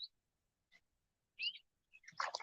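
Birds call outdoors on a fishing trip, giving sparse, faint high chirps and short whistles, a few isolated notes with a slightly louder burst at the end.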